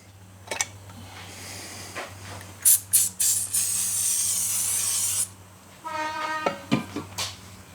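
Lubricant sprays from an aerosol onto a part of a 1997 Suzuki Bandit 600 café racer motorcycle, beginning with short sharp hissing bursts and then a steady close spray of about two and a half seconds, followed by a few light clicks.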